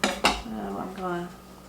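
A metal spoon clinks and scrapes against a bowl as garden-harvest food is stirred together, two sharp knocks followed by a ringing scrape and a softer tap, heard alone.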